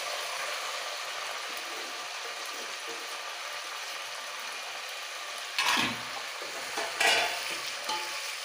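Masala rice fries steadily in a pan, a continuous broadband sizzle with two short louder scraping stirs near the end; no voices.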